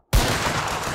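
Massed rifle volley in Mount & Blade Warband, set in the Anglo-Zulu War, bursting from silence into a loud rolling crackle of many shots fired at once that lingers for nearly a second.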